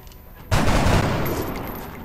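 A single loud gunshot blast from soldiers in XCOM Long War, a sharp crack followed by a long rumbling decay, heard alone.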